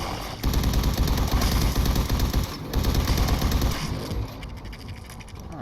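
Rapid automatic gunfire from a fully upgraded weapon in a Fallout game, loud sustained bursts of dense rattling shots with a short pause midway, then a trailing, slightly quieter volley.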